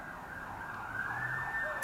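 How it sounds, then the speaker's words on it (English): A passing ambulance or police car siren wails steadily over a street, its tone rising and sliding as it draws closer and grows louder, with no voices over it. "So we got a ambulance coming by, or a cop car coming by."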